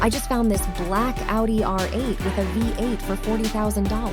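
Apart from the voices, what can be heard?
No everyday noises stand out.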